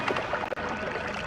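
Water being poured to refill a flask in the Noita game: a bubbling, gurgling pour that runs steadily under soft background tones, with a brief dip partway through.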